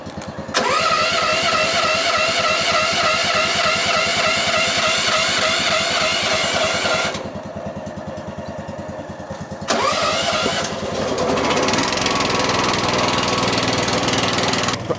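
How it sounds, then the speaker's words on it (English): A small Ducar stump grinder's gasoline engine cranks and catches, then runs at a loud buzzing roar, dips briefly to a lower idle, and revs back up to full speed, close by and without talking. "Haven't had the little Ducar stump grinder running for a while, so we'll go ahead and"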